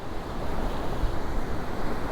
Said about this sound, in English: the sea is so rough, the tide. So it's high tide